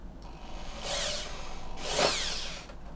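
A power drill fitted with a bit sized to the screws drills into stormtrooper armor strapping, giving two short, fairly faint bursts of whirring about a second apart against a low background hum.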